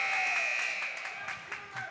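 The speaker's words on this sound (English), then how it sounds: "There's the buzzer ending." A hockey horn buzzer sounds to end an 18U playoff game, a sustained tonal blare running through the clip, gradually fading under crowd noise and light talk.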